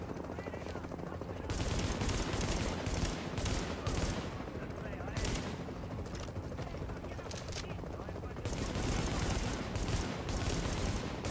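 Dense automatic gunfire in The Division video game, bursts of rapid shots piling over one another nearly nonstop, with louder stretches and brief lulls, and a voice speaking underneath.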